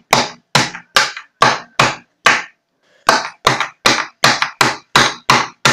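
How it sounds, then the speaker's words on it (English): Sharp, loud blows strike repeatedly in a steady rhythm, a meat tenderizer hammer cracking ice into small pieces, with a short pause before the pounding resumes. "she's just gonna break the ice. As you can see, she's using a hammer."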